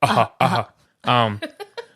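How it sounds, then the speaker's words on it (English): A man clears his throat in a few short, rough bursts, separated by brief pauses, close to the microphone. "let me clear my throat"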